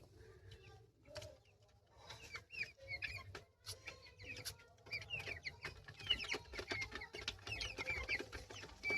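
Broiler chickens about 25 days old cluck and chirp on a poultry farm in winter, a faint scattered chorus of short calls over low background hum.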